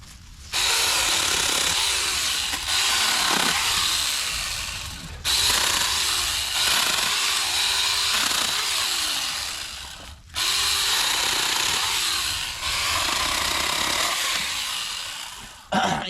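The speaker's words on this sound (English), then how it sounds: "Let's go up here and cut a few of these limbs off here, Sandy." A battery-powered pruning saw, in the manner of a small chainsaw, buzzes steadily through tree limbs in three long, loud cuts separated by brief pauses, each cut sagging slightly in pitch under load, with no talking.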